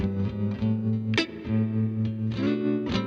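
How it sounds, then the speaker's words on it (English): Electric guitar chords ring out with a warm, lush reverb tail, strummed in a steady rhythm with smooth, slightly saturated tone. "That's a nice warm guitar reverb. Almost like a tube amp reverb."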